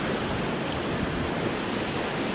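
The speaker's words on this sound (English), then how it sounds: "I can see running water into the back of it" Water runs steadily into the back of a pond, a constant broadband rush with no break in it, close and even throughout.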